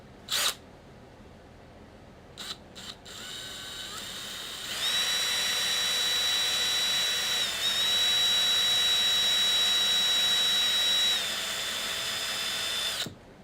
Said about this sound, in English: So let's drill a little pilot.